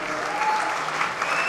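An audience at a team presentation for a rugby club's new season claps in a dense, steady burst of applause that fills the room, with faint voices mixed in.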